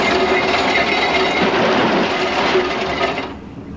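Patrol boat anchor chain runs out in a loud, continuous metallic rattle and clatter for about three seconds, then cuts off abruptly, with no talking over it.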